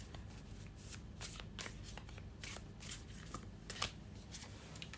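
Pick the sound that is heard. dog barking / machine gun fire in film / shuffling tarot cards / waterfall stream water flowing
shuffling tarot cards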